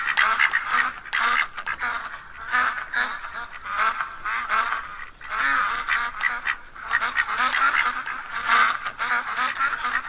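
Ducks calling in theHunter: Call of the Wild on the Layton Lakes map, a dense, continuous chorus of honking quacks from several birds, fairly close and loud, with no talking.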